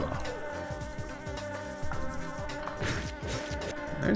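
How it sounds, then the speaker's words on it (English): Ambient bee buzzing from the Ragnarok Online game hums in a continuous, fluttering drone, layered with game music and soft repeated tones at moderate volume. "There's bees buzzing."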